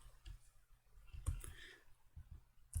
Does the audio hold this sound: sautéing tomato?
no